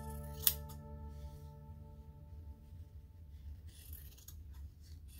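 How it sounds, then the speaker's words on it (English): Scissors trim a sewn fabric strap for a collared shirt, one sharp close snip near the start followed by faint soft cutting and rustling over a low steady background hum. "So now I'm just gonna trim my strap piece that I've sewn."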